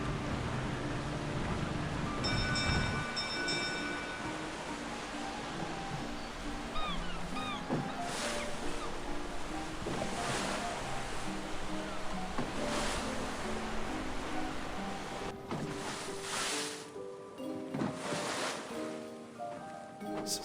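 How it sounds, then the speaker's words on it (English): A boat engine whirls over ocean waves, a broad steady rush of surf and wind with a low mechanical hum, moderately loud, with tonal music-like lines layered throughout. "her tears and the ocean waves were broke by the whirling sound of an engine"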